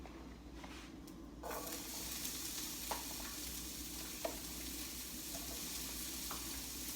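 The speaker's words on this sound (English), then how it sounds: "I'm going to go ahead and start sauteing these vegetables" Vegetables sizzle steadily in a hot pan, a constant crackling hiss with occasional clinks of a utensil stirring.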